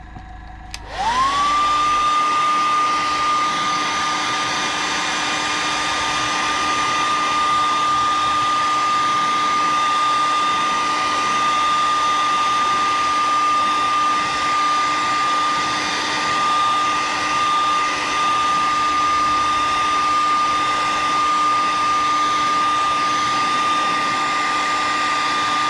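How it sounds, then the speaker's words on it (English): A hair dryer blows steadily for almost half a minute after clicking on, drying paint on topwater and diving fishing lures, with a loud, even whine and airy rush and no pauses. "Okay, I'm going to do the hairdryer"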